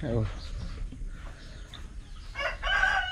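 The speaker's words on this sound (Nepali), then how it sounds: "हाम्रो ठुलो भाले छ।" A big backyard rooster at a rural Nepali home crows once toward the end, loud and drawn-out, after softer clucking and background noise, with a voice speaking earlier.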